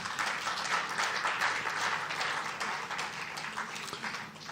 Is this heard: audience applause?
yes